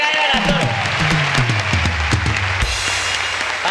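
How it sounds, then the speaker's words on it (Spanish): A studio audience on a comedy talk show claps together, bright clapping over a voice talking and laughing nearby. "Un aplauso para todos."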